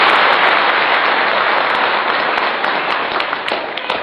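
A crowd applauds at a religious lecture, a loud, dense wash of clapping that starts full and slowly thins out over a few seconds.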